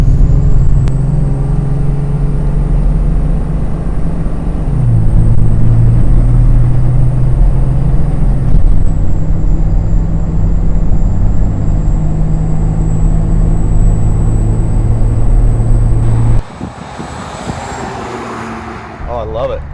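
2007 Cummins 5.9L diesel pickup with 62/71/VGT Turbonator over S475 compound turbos towing a 28-foot trailer, a steady loud drone with a high turbo whistle riding above it, cutting off abruptly near the end as the engine drops away.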